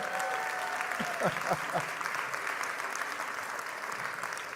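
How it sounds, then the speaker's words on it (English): An audience claps for the Durham Divas cheerleaders at Durham's 2024 State of the City address: a steady wash of hand claps that runs the whole time, with a voice briefly over the start. "Can I get a hand clap for those Durham divas, those cheerleaders out there?"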